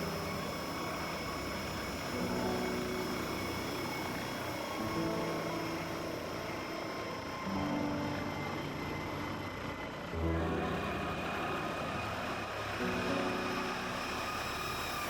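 A VSL 902X-NTR NOTAR helicopter in the X-Plane 12 flight simulator drones steadily with a continuous rotor and turbine hum, moderately loud and sustained, shifting slightly in tone partway through.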